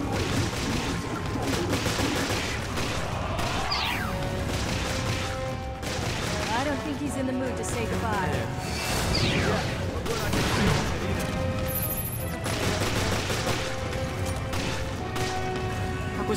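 Gunfire in the video game Resident Evil: Revelations during a final boss fight, with repeated loud shots and bursts scattered across a chaotic stretch, mixed with crashes and effects while someone talks over it.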